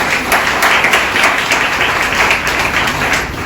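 Church congregation at a Sunday service clapping loudly together, a fast, dense run of handclaps that stays close and strong throughout.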